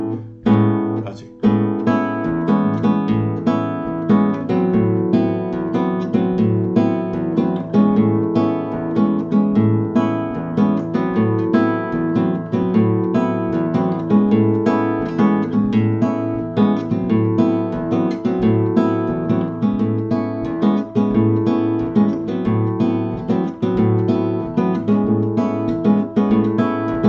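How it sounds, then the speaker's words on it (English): Bossa nova played on guitar as tight two-note dyads, a steady syncopated comping pattern of plucked double stops over a bass line, continuous and close with no talking. "You can see how the dyads, the 2-note chords, sound really good too, really tight."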